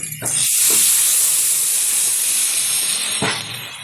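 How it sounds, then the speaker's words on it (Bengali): Water poured into a hot pan with shing fish and vegetables gives a loud, sustained hissing sizzle that starts abruptly, with a few brief clinks at the edges. "দিয়ে দিচ্ছি পরিমাণ মতো জল"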